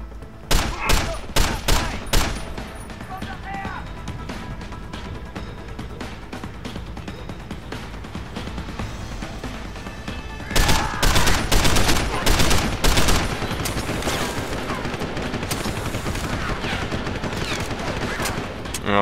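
Enemy gunfire in Deus Ex: Human Revolution, a few sharp early bursts, then a quieter stretch before heavy sustained automatic fire returns, with some talk underneath.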